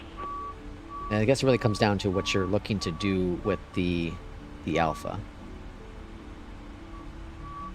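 A garbage truck reversing outside, its steady electronic beeps repeating at an even pace in the background while someone talks close by.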